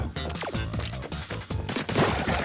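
Ink weapon shots fired at an enemy in the Splatoon 3 video game, a busy run of rapid, punchy bursts over game music and effects, loud and close throughout.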